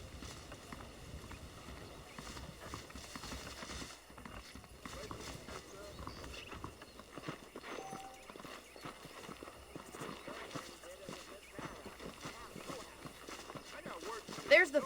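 Horses' hooves clip-clop steadily in a Wild West video game as riders set off from saddled mounts, the rhythmic hoofbeats running throughout beneath music and a voice talking.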